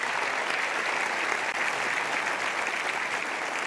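A seated audience gives a café band another round of applause, a dense, even wash of clapping at steady volume throughout, with no talk over it.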